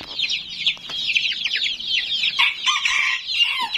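Bantam chickens crowd around a feeder, giving a dense, busy chorus of overlapping clucks and short squawks that runs unbroken and fairly close.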